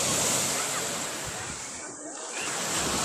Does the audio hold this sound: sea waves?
yes